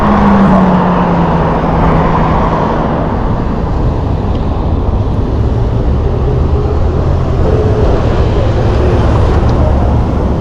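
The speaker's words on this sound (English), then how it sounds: "Car right here though." A car passes on the road beside a rider on an electric bike, a loud, close broadband roadway roar with engine tones shifting as it goes by, heavy wind noise throughout.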